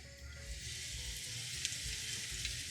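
Marinated chicken breast kebabs sizzling in hot olive oil in a pan over a gas flame, a steady close frying hiss with small pops and no talking.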